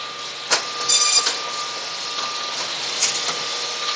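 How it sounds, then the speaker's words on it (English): A 2018 Standard Horizon BQ-480 PUR perfect binder runs steadily with a constant mechanical whine and hum, broken by a few brief clacks and thumps as the cover is scored and crimped. "There's your cover getting scored and crimped on there."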